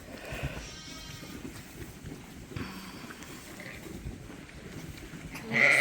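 Sheep and a lamb bleat on a crowded farm with lambing jugs, voices overlapping near and far over steady barn noise, with a louder burst at the end.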